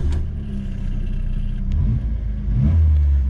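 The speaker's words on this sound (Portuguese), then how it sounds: "Passat GTS Pointer, um carro realmente muito icônico" A 1980s Volkswagen Passat GTS Pointer sports car with 11,000 km idles with a low, steady rumble, then its engine revs up louder near the end, heard close and without talk.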